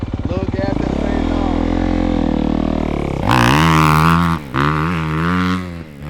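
A dirt bike engine idles with a buzzing tone, then revs up sharply as the rider pulls away, staying loud and close with brief throttle dips near the end.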